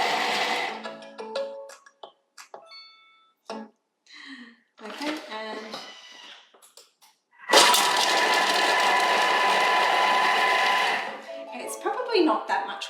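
Thermomix TM7 food processor chopping ingredients for beef stroganoff, a steady loud whirring run of about three and a half seconds that follows scattered quiet clatter and brief talk.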